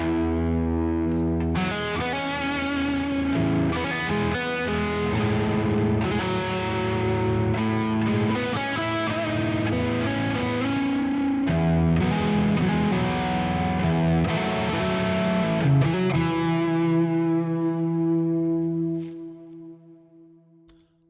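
Electric guitar runs through a Neural DSP Archetype Tim Henson default preset with a mildly crunchy, reverb-heavy tone, playing a series of chords and notes before a final chord rings out and fades.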